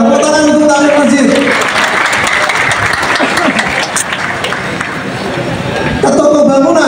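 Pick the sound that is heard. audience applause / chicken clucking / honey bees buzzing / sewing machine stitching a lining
audience applause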